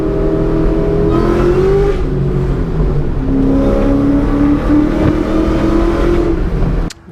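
A finished Ford Cobra's engine revs loudly and steadily, its pitch climbing and easing through several rises over about seven seconds before cutting off abruptly near the end, with no talking.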